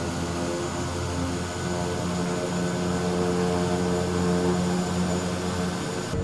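An SWS Kodiak propeller plane in a flight simulator game gives a loud, steady engine drone with a constant tonal hum and no change in pitch across the stretch.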